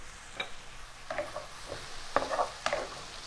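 Mushrooms sauté in a little oil in a pan, giving a soft sizzle with a few sharp clicks and scrapes of stirring over about three seconds, close and fairly quiet.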